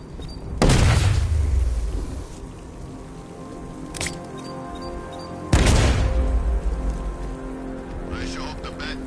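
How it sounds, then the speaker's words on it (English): Two heavy explosions boom in a Batman video game, each a sharp blast with a long rumbling decay, set several seconds apart over a steady hiss of ambient noise. "I sure hope the Bat died in that explosion."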